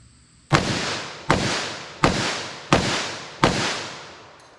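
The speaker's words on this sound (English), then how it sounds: "fire as fast as I can pull the trigger, but fire as fast as I can and still think I can hit the target" .44 Magnum revolver shots fired as fast as possible at an outdoor target, five loud, sharp reports at an even rhythm about three-quarters of a second apart, each trailing a short decay.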